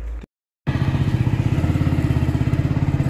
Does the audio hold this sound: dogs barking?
no